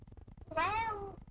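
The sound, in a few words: cat meowing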